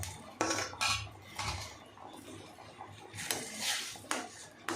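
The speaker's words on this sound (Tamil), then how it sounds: "அந்த ரவையில் போட்டு நல்லா கை விடாமல் கிளறுவோம்" Semolina being stirred in a pan for rava kesari: repeated metal scrapes and clinks of a spoon against the pan, irregular and fairly close, quiet overall with no talking.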